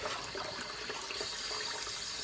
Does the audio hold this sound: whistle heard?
no